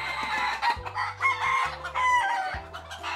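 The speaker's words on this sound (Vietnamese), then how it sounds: "gà la rùm quá" Chickens and roosters at a chicken farm in Tây Ninh cluck and crow together in a busy, overlapping chorus, close and continuous, with no talk over them.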